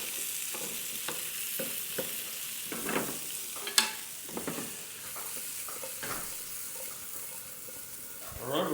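Potatoes fry and brown in an oiled pan, a steady close sizzle with occasional pops and spatters, running alone without talk.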